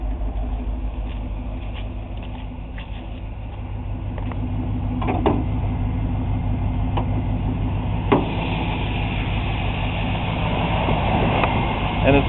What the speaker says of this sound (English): Hopefully that'll let you hear the exhaust a little bit.